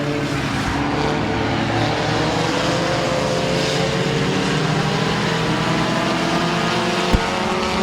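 Race cars roar around the Midvale Speedway oval, a steady loud engine drone with rising and falling pitch as the pack runs, dense and continuous with no clear speech.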